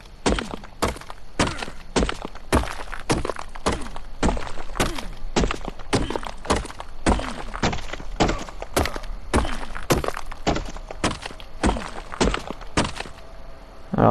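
Stone being broken in the video game ARK Survival: a long series of loud, heavy thunking impacts at a brisk, fairly regular pace, each a sharp crack-like hit close up.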